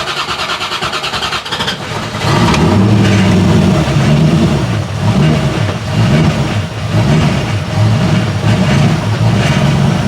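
Citroën C4 cold starting after sitting for months: starter cranking briefly, then the engine catches and runs loud and close with a rough, pulsing idle.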